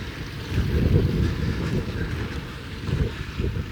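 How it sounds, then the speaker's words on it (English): Steady, gusty wind buffets the microphone on a cold, breezy stretch of Cornish coast near old mine ruins, a low rumbling roar that swells and eases throughout with no talk. "It's very breezy down here and very cold actually."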